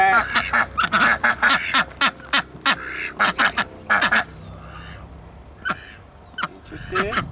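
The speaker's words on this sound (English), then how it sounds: "Let me get a quack quack for my homies, the ducks." Ducks at a San Diego animal sanctuary and farm quacking in loud, close, rapid bursts, then a few scattered quieter calls, with a little background noise.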